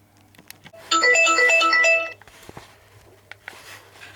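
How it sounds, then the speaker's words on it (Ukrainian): A phone rings with an incoming call, a bright, loud melodic ringtone of rapid electronic notes lasting about a second, then cut off, followed by faint handling clicks and a low background hum. "Він мені телефонує."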